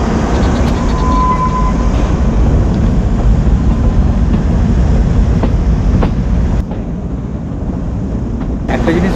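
Kalka–Shimla toy train, the Shivalik Deluxe Express, running along the mountain track: a steady, loud rumble and rattle of wheels heard from on board, with a brief drop in level near the end.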